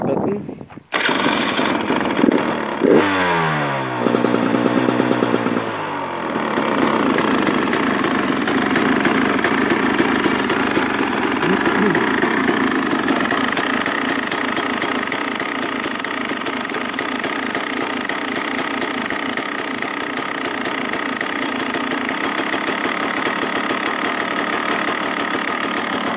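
A 2015 KTM 300EXC two-stroke motorcycle engine cranks and catches after a couple of seconds, then settles into a loud, steady, rattly idle close by for over twenty seconds.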